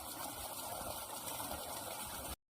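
A motor-driven water pump runs steadily on a farm, pushing irrigation water in a continuous gushing rush that stays level and close before cutting off abruptly at the end; no voices.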